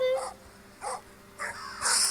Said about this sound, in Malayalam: German shepherd കുരയ്ക്കുന്നു